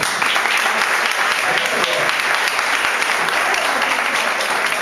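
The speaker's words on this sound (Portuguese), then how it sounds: "Aí vamos aplaudir, vamos aplaudir." An audience at a church teaching session claps steadily and loudly for several seconds, a dense continuous applause with no break.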